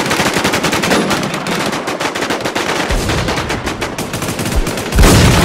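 Rapid automatic gunfire from the Infestation video game rattles in dense, loud bursts, with a brief pause near the middle and a heavier blast at the end.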